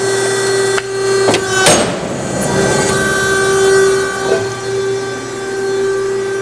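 A JMT 120 ton ironworker shears 1.5 inch solid round steel: a loud metallic crack and bang of the cut over a steady machine hum, with lighter clanks afterward.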